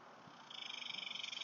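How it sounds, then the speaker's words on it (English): Cicadas sing outdoors on a summer day, a faint high buzzing drone that swells into a pulsing, rhythmic trill partway through, with no talk. "but obviously the cicadas are out right now."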